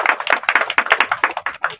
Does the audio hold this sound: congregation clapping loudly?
yes